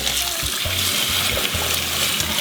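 Running water splashes and trickles over pig's feet being rinsed, a steady close splatter with uneven low thumps as the meat shifts under the stream.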